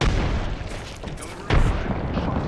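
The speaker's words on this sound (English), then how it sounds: "Throwing frag. Delivering frag." A frag grenade detonating in a video game: a heavy, close boom with a sharp burst midway, then a rumbling tail, no talk.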